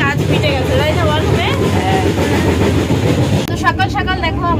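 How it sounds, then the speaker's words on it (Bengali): The Tirupati Humsafar Express rolls along from Howrah with a steady, loud rumble and a rhythmic rail clatter, while people talk over the running train. "আর ট্রেন চলছে, হেভি লাগছে"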